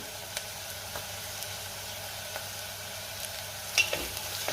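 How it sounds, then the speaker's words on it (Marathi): Ginger garlic paste for spicy chicken sukka fries in hot oil in a pan, a soft steady sizzle with occasional faint spatula taps and scrapes, quiet and continuous with no voices. "आलं लसणाची पेस्ट सुद्धा मी 1 मिनिट परतून घेणार आहे।"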